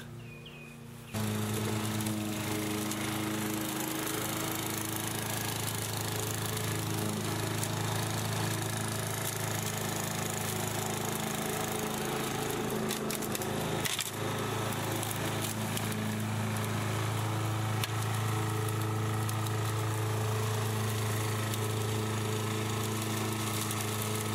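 A lawn mower engine runs steadily and close by for the whole stretch, a continuous droning hum with a faint low rumble and no voices.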